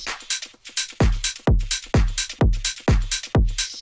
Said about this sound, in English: So together, so far, all the drums sound like this.